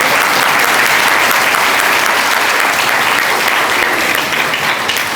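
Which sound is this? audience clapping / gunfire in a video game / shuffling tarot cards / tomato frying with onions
audience clapping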